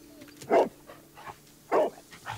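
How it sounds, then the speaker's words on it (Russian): Dog barks from the detective game Sherlock Holmes: Crimes and Punishments, two short separate barks about a second apart, moderately close, over a quiet game ambience. "Гав-гав!"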